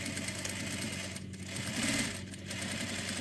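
Electric sewing machine stitching and back tacking a fabric face mask, a steady fast whirring drone that runs continuously and close up, briefly easing and then speeding again.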